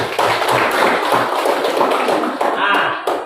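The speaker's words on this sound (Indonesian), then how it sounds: "Ayo, tepuk tangan" Classroom students clap for a classmate who gave the conclusion, a dense burst of many hands with a few sharper claps, mixed with background chatter and a voice over the top.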